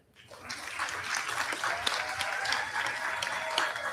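Applause at a practical nursing (LPN) pinning ceremony: clapping swells within half a second into steady, sustained applause from a sizeable crowd of family and friends, with a few sharper individual claps on top.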